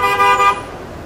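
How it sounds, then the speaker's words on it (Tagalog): A car horn honks amid heavy weekday morning road traffic, a loud steady tonal blare lasting about half a second before it cuts off, leaving the low rumble of vehicles. "Webes ngayon eh. Sobrang traffic."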